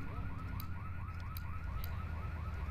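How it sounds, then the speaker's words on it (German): A car alarm in Grand Theft Auto III loops a rapid, repeating warble, steady and fairly faint beneath game ambience, with no talking. "Erstmal warten, bis die Alarmanlage aufhört."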